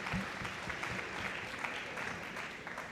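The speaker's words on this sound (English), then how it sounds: "Let's have a round of applause for all of them," Steady applause from an audience at a school event, a dense even wash of clapping at moderate distance that holds for the whole stretch without talk over it.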